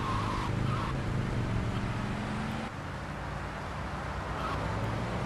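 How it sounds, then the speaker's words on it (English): Kaufman Cabs taxi in the game GTA Vice City, a continuous loud engine drone with skidding tyre noise throughout, easing slightly in the second half, with no talk. "You don't want to oversteer a Kaufman cabs taxi."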